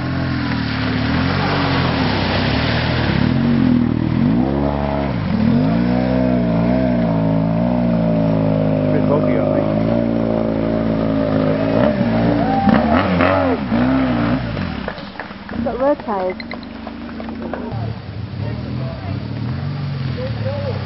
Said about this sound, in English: they've got knobby tyres, I see how the back wheel's spinning